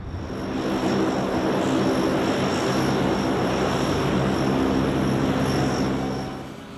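An Airbus Super Guppy cargo aircraft, a 1960s design, drones past with a loud, steady propeller-engine roar that swells in and fades slightly at the end, with no voices.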